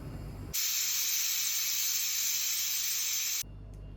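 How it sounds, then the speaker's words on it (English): Sharp, loud hiss of steam bursting from a pressure cooker cooking vegetables for tomato bhurta, holding steady for about three seconds before stopping abruptly. "close the pressure cooker and give this 2 or 3 whistles"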